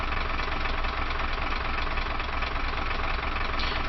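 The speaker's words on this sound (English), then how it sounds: "as the diesels do their thing" Steady diesel engines of a U-boat in a submarine simulator game run continuously at an even, loud, close drone with a dense rumble and no speech over it.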